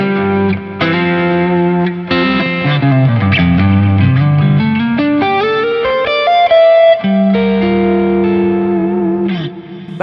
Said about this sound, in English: That's something like the Blues driver.